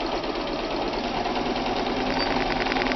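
A K150 electronic sewing machine runs steadily in reverse, its motor and needle producing a continuous, fast, even mechanical whir with fine rapid ticking, close and alone throughout.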